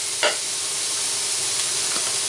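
Meat for a stew sizzles in a pan with a steady, faint frying hiss, and a short stirring scrape cuts in near the start.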